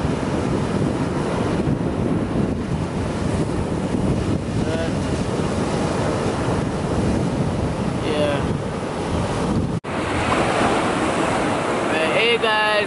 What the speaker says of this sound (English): Look at them waves there. Look at those waves.